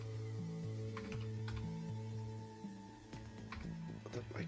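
Computer keyboard keys clatter in a quick irregular run while someone types commands in Vim during a Ruby on Rails coding session, close and moderately loud over a steady background hum and a low tonal drone.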